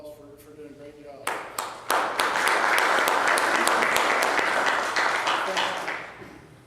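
Audience applause at a Storm Ready ceremony, starting with a few separate claps and quickly swelling into sustained clapping from a crowd before tapering off; a voice is heard briefly at the start.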